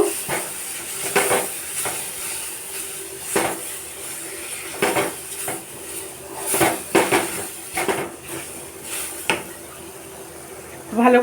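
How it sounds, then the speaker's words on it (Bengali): Grated ripe banana stirred in a pan over a low gas flame, with repeated scraping and clinking of a utensil against the pan over a soft steamy hiss, a few strokes louder than others. "এই গ্রেড করে পাকা কলাটা আমি দিয়ে দেবো আর গ্যাসের ফ্লেম থাকবে একবারে লো এটাকে আমি ভালো করে এটার সঙ্গে মিশিয়ে নেব"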